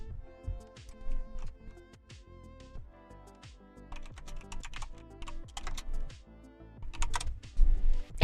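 Rapid clattering keystrokes on a computer keyboard, irregular bursts of close taps continuing throughout, growing heavier and louder near the end, with faint background music tones underneath.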